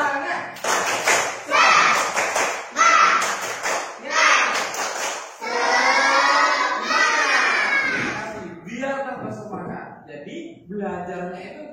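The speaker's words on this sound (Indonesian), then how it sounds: "Tepuk semangat" A crowd of children does a rhythmic spirit clap routine, sharp clustered claps in a set pattern followed by loud shouted chanting, then quieter voices trailing off.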